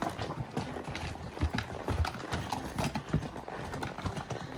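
Shod horses with pads on their feet walk a rocky Wyoming mountain trail crossed by tree roots, hooves clip-clopping in an irregular, close, steady rhythm of knocks.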